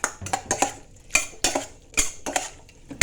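Larb pork mixture being stirred in a bowl, a series of distinct clinks and scrapes of a utensil against the bowl, about eight separate strikes in an uneven rhythm, close and clear with no talking.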